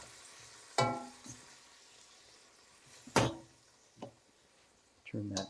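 Tofu frying in a pan while being stirred, a soft sizzle underneath several sharp scraping and knocking bursts of the spoon against the pan, with a voice talking briefly.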